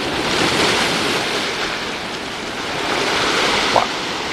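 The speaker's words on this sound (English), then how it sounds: "as soon as I started filming, one of the waves got her" Ocean surf washes onto a beach in a steady broad roar, swelling and easing as waves break near the shore, with wind buffeting the microphone and no voices.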